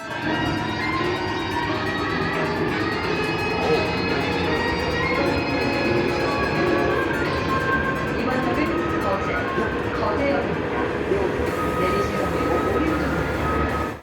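A Busan Metro Line 3 subway train runs between stations past Sajik and Sports Complex toward Geoje, including a sharp curve. It gives a continuous loud rumble with whining tonal hum and steady wheel and track noise throughout.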